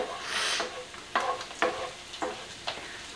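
Angel hair konjac pasta cooking in a pan over lowered heat, a soft steady sizzle broken by several brief scraping stirs at intervals, close and fairly quiet with no talking.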